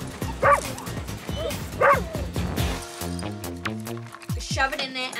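A dog barks and yips in short bursts, then whimpers, close by, while people talk over a rushed morning drop-off and light music plays underneath.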